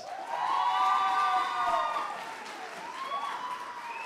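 An audience at a French song festival stage in São Paulo applauds and cheers for a young singing contestant, with whoops and shouted voices rising over the clapping and fading somewhat after a couple of seconds.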